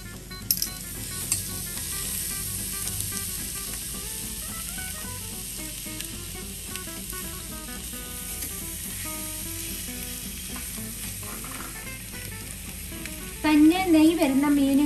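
Salted fish sizzles on a grill over a high flame, giving a steady, close frying hiss throughout; a voice comes in briefly at the end.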